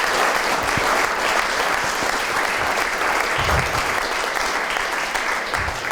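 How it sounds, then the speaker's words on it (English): An audience at a history lecture applauds cemetery volunteers with loud, steady, dense clapping that fills the whole span without a break. "So I'd like you to give them a round of applause at this time."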